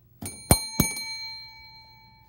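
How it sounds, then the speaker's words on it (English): A small bell rings three quick times, each strike bright and metallic, then its tone fades away into quiet. "It's birthday time, ring that bell."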